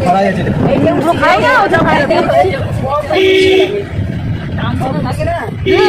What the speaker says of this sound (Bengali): ওই জন্য হর্ন বাজি বাজি টানতে হচ্ছে